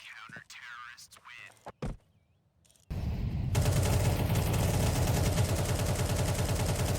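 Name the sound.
gunfire spraying through smokes in a Counter-Strike video game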